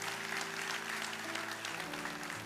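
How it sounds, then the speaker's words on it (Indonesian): A church congregation claps together in a sustained burst of applause, with a faint tonal musical hum running underneath the even clapping. "Tepuk tangan bagi Allah kita."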